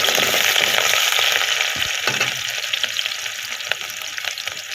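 Onions frying in hot oil at home, a loud steady sizzle with stirring and scraping, close up and continuous, with no talking.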